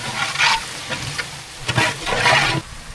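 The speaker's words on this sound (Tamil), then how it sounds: "எல்லாம் சேர்த்தாச்சும் நல்லா வதக்கி விட்டுக்கலாம்" Onion, tomato, mint, coriander and green chilies sauté for chicken biryani, with a soft sizzle under several close bursts of scraping and stirring in the pan.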